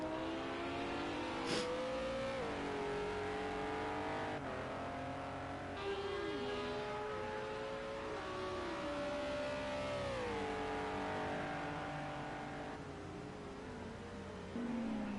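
Race cars on the European GP circuit in Project Cars 2 during a CRC T2 league race, a continuous loud engine whine rising and falling through gear changes and corners, with no talk.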